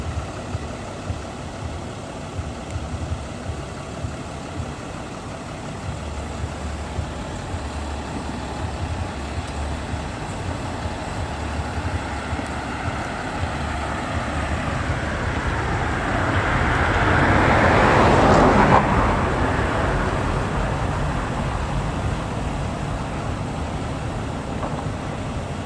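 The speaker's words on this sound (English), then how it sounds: "They're towing the vehicle right now." A tow truck hauls a vehicle along a street in south Phoenix, a steady heavy engine drone mixed with traffic noise, swelling louder as it passes close by and then easing off.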